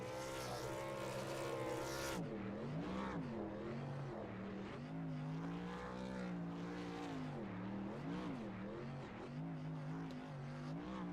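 A race truck in a racing video game at Iowa does a burnout, its engine roaring continuously and loudly with revs rising and falling in repeated surges for several seconds.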